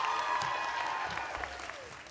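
Enthusiastic applause from a crowd at a 2021 Stranahan High School graduation ceremony honoring top graduates, dense clapping that gradually tapers off.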